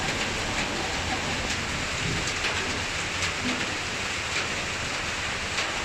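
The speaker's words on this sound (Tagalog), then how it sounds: "sa murang bigas nga, ay naulan naman, ay sinong bibili?" Steady rain falling on a shop roof during flooding, a dense continuous hiss of drops with occasional louder individual taps, even and unbroken throughout.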